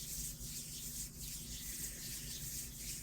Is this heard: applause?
no